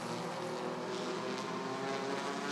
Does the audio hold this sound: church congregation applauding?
no